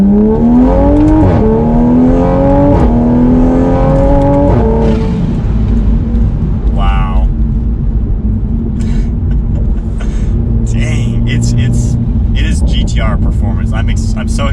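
Tuned Toyota Supra A90 with 450 wheel horsepower pulling hard through second gear, its engine note climbing in loud repeated rising sweeps before settling into a steady rumble, with people talking over it.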